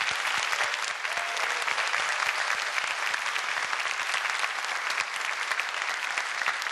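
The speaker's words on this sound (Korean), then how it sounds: "여러분 감사의 박수를 보내주세요" An audience at a talk claps steadily, a continuous wash of many hands at even loudness with no voices over it.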